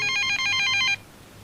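A telephone rings in a Malayalam film, a bright electronic trill in steady repeated bursts for about a second, then it cuts off, leaving a faint low hum.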